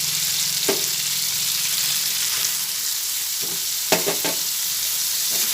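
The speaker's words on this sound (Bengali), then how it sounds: "ছানাটা দিয়ে একটু ভালোভাবে নাড়াচাড়া করে নিচ্ছি" Drained chhana (cottage cheese) being stirred in a hot frying pan, a steady sizzle with a few separate spatula scrapes and knocks, clustered near the middle.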